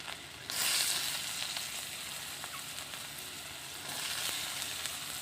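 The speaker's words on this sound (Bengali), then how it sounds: "রাইসের জন্য গাজর ভেজে নেব" Carrots frying in hot white oil in a wok: a loud, continuous crackling sizzle that surges at the start and again near the end, with faint stirring and no voices.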